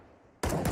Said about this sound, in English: The barrage of nades